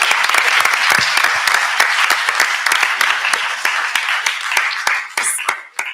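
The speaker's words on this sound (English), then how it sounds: "Can we give him a round of applause?" A lecture-hall audience at an environmental talk applauds, a dense burst of many hands clapping near and steady, thinning out toward the end.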